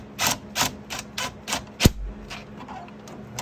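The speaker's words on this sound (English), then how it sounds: "You can go back and check them with the ratchet." Ratchet clicking while tightening bolts on a Polaris RZR 170 side-by-side under repair: a close series of about six sharp mechanical clicks at an even pace, then one louder snap and a few softer ticks.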